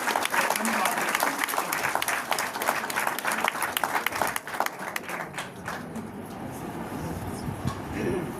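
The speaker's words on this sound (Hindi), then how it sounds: "चंद्रमा जी के जोरदार तालियां बताएंगे आपके लिए।" Applause at an Amway business-building seminar in Nasik, strong clapping for about four seconds that then thins and fades out under a speaking voice and room murmur.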